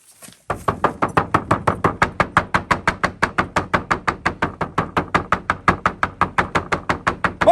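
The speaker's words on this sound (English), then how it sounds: "What are you knocking at?" Steady, rapid knocking on a door, about forty evenly spaced sharp raps in a fast, regular rhythm, loud and close with no talk.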